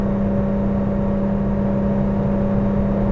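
A 1983 Porsche 911 with the 3.2 engine pulls uphill at half throttle, a steady, loud mechanical drone with a constant engine whine and road rumble, unchanging throughout.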